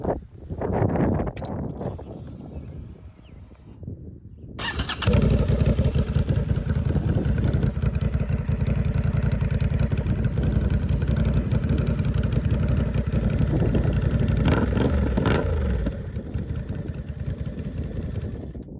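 A Honda CB750 Hornet motorcycle fitted with a Shorty GP exhaust starts and settles into a loud, steady idle close by, with a few earlier clunks before the engine catches.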